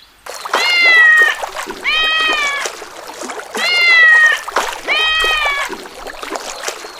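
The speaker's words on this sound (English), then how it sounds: "A kitten fell into the water." A kitten that has fallen into water in a park cries out in four loud, drawn-out meows, each about a second long with short pauses between, close and clear over faint splashing.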